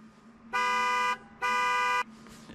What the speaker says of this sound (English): this is what my Kubota will sound like if I had a horn